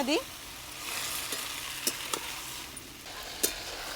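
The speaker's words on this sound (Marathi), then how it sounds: "भाजी आपल्याला चांगली परतून घ्यायची" Greens sizzle and hiss in a hot pan, with a few sharp clinks and scrapes as they are stirred. Steady and moderately loud, no talking.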